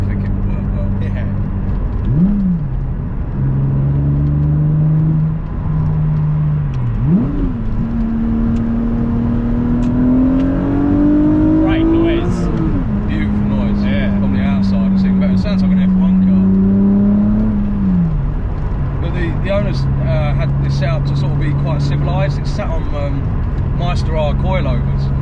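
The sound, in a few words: Toyota MR2 V6 car accelerating in first gear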